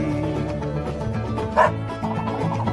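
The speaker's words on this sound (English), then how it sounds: "Who let the dogs out?" Dogs barking and yipping at close range, several sharp barks and whimpery yips bursting over a steady background, loud and alone without talk.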